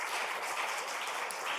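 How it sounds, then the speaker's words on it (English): A hall full of delegates at the World Parliamentary Library Conference applauds the speakers, a steady, even roar of many hands clapping, somewhat distant and without any talk over it. "Please give them a round of applause again to our speakers, please."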